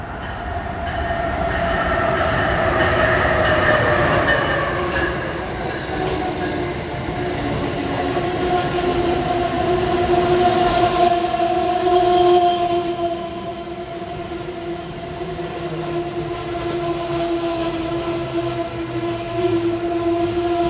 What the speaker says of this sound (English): approaching is Amtrak train 171 en route from Boston for a long journey down to Roanoke, Virginia